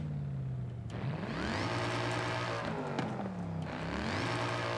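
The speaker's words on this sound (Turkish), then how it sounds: "Çift turbonun sesi bu." A twin-turbo car engine in Forza Horizon 5 drones and revs continuously, its pitch climbing and dropping through gear changes, loud and close with a whirring turbo-like whine.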